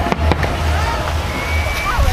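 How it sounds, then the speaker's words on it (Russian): New Year fireworks going off early over the beach at Pattaya, Thailand, with a few sharp bangs and crackles plus whistling rockets under a steady crowd and surf wash, voices talking nearby. "Тоже тайцы начинают салютировать раньше."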